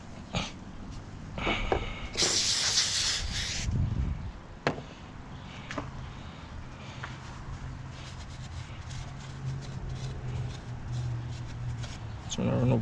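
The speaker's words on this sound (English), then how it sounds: "Just wanna run over the surface with the brake cleaner." Brake cleaner hisses from an aerosol can onto the valve cover surface of an R56 Mini Cooper, one loud sustained spray burst of about a second and a half amid garage handling noise.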